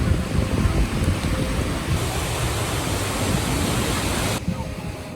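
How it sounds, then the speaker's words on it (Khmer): Evening sea waves breaking on the beach at Koh Kong, Cambodia, a loud continuous wash of surf mixed with wind buffeting the microphone, steady throughout and easing slightly at the end. "មានសំឡេងនៃ ទឹកសមុទ្ររលកសមុទ្រក្រំក្រែងពីរសស្ដាប់ណាស់"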